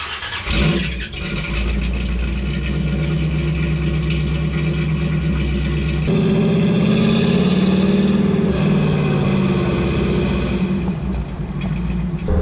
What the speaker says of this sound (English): Engine's running great, not hearing any ticking or anything